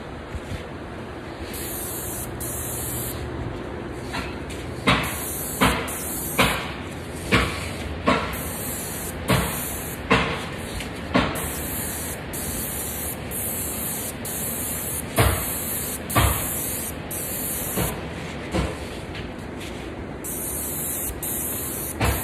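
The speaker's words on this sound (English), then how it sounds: "So I'm gonna try to spray this and hold the camera at the same time." A spray gun applying Sherwin Williams Sherwood vinyl sealer to cabinets in a shop, a loud continuous hiss broken by repeated short bursts as the trigger is pulled and released in passes.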